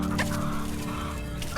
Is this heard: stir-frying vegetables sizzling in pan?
no